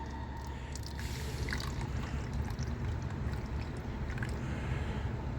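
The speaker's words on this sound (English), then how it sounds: "I'm going to pour this directly into the funnel." Water tinted with blue food coloring poured into a funnel, a continuous close trickling and splashing stream with a low rumbling background throughout.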